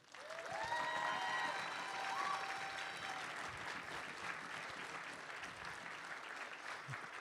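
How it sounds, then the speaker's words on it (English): Sustained applause from a large convention crowd at a closing ceremony, loud and even from start to finish, with a few whoops and whistles rising briefly over the clapping. "Please give them a round of applause."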